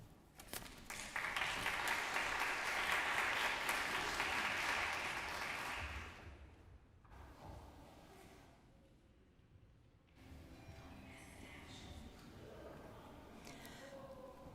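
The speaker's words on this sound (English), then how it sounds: "Welcome them with a big round of applause." An audience at a cultural arts festival claps to welcome student presenters, a loud burst that swells quickly, holds for several seconds, then dies away into quieter room noise and a little low talk.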